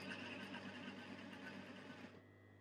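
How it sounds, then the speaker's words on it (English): A sewing machine stitching forward and back-stitching fabric flags onto tape for simple bunting, a steady close mechanical whir running continuously before cutting off near the end. "stitch over and back stitch"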